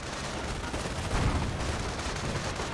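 Machine gun fire from an MG bunker in Company of Heroes rattles in a dense, steady wash of battle noise, gunfire and explosions blending into a continuous mid-level roar with a slightly heavier burst midway.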